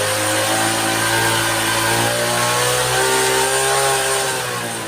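Honda CD 70 motorcycle engine with a misfiring problem, revving steadily as the throttle is slowly opened, a loud, close, continuous buzzing drone that swells slightly and then eases off toward the end.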